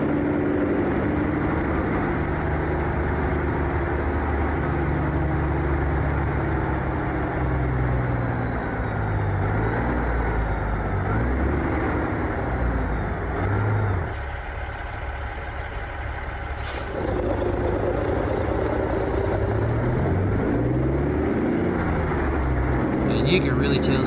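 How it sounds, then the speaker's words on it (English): Cat 6NZ engine of a heavy truck hauling a lowboy in American Truck Simulator, a low steady diesel rumble with slight shifts in pitch as it works, continuous throughout with a brief quieter dip midway. "Now this Cat 6NZ that I have on it, that comes with the truck, sounds amazing."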